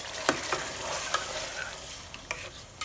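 Chana dal simmers in a pan, with a soft continuous sizzle and light stirring scrapes recurring several times, fairly faint and close.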